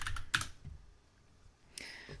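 Keys clatter on a computer keyboard as a command is typed to launch a minimalist Wayland window manager, a few quick close clicks and taps in bursts, with no one speaking.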